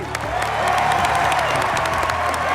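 Loud, continuous crowd applause with some cheering for two Hell's Kitchen cooking competition finalists, a thick wash of clapping that stays full for the whole stretch over a low musical bed.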